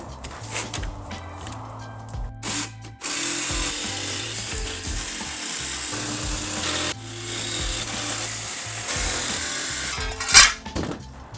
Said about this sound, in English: So all I got is the metal blade, and this is only 16 gauge metal, so it's not that thick.